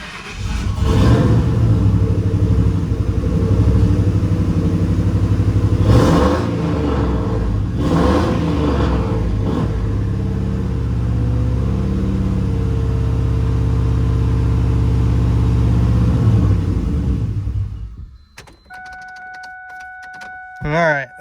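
A turbocharged Ford Mustang SN95 engine runs rough and loud up close, refusing to settle into an idle, with a steady heavy rumble and brief rises in revs before it cuts off and a beeping chime sounds.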